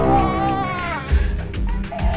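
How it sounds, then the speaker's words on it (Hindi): A baby cries in loud, wavering wails, breaking into short sobbing bursts near the end. "बाहर बच्चे की रोने की आवाज आ रही है।"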